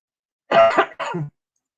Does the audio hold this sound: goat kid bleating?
no